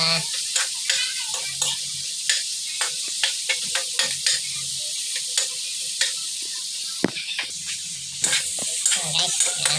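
Vegetables with tomato being stirred in a pan for a Filipino vegetable dish, with steady frying sizzle and repeated scraping strokes of the spatula throughout, close and fairly loud, no talking.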